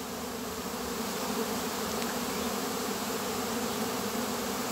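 A dense, steady hum of a swarm of honeybees buzzing together, constant and close, with no voices.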